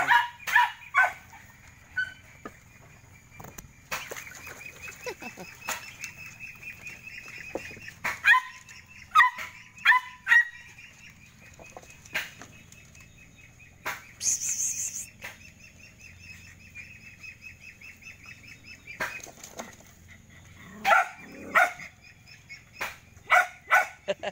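Dogs barking in repeated bursts, some yelps and whimpers mixed in, moderately close, with steady background hum between barks.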